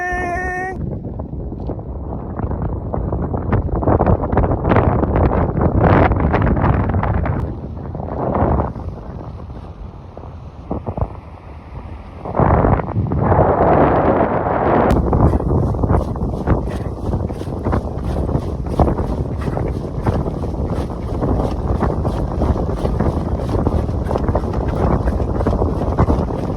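Strong wind buffets the microphone in a steady, loud roar while running across a long bridge in the Philippines, with heavy gusts throughout and a faint high whine joining partway through.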